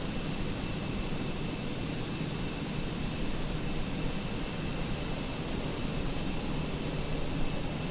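Turkish Airlines jet airliner on approach to landing at Istanbul in Microsoft Flight Simulator, a steady broad engine roar and airflow hiss holding level throughout with no talk.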